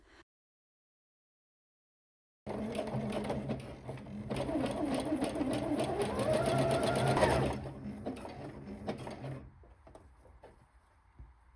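A domestic sewing machine runs steadily for several seconds, stitching bias binding onto a camisole with a fast whirring hum and rhythmic needle clatter, then slows and stops after a near-silent start.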